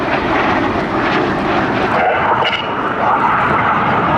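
Red Arrows jets flying the circus manoeuvre at an air festival make a loud, steady, continuous roar that fills the whole moment without a break.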